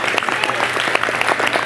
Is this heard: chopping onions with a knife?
no